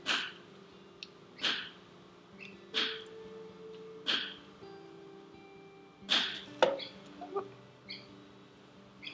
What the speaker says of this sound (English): Chop off a little bit, or you can use a grater.